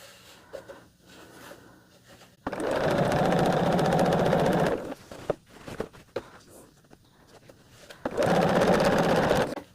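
Sewing machine stitching a quarter-inch seam on a sampler quilt block, running in two loud sustained bursts separated by quieter handling of fabric.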